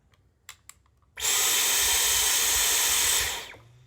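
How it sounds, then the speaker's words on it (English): A Dyson vacuum with a pet groomer attachment switches on after a couple of clicks, running as a loud steady whine and whoosh for about two seconds before winding down. "push this on until your Dyson turns on"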